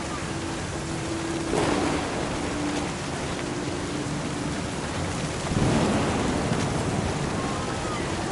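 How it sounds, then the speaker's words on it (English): Thunder booms in a stormy scene from the video game What Remains of Edith Finch, heard as two loud, rolling swells over a steady wash of rain and surf, with no speech. "Thunder sounded much too close and full of angry power"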